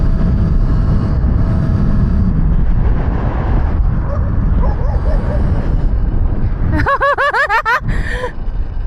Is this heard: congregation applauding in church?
no